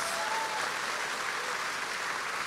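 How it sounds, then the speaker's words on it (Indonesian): A church congregation applauds during an evangelist's sermon at an onsite service, an even wash of many hands clapping, moderately loud and sustained without pause through the short stretch. "Tepuk tangan sama Tuhan Yesus."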